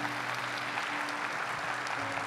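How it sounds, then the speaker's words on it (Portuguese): A congregation applauds during a Catholic Mass in church, a dense, even wash of clapping lasting a couple of seconds, with a low steady hum underneath. "Vamos aplaudir essa graça de Deus."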